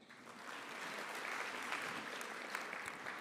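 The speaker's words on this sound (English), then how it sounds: "You can applaud." Audience applauding at an awards ceremony, a steady wash of clapping from a crowd that stays even and moderately distant throughout.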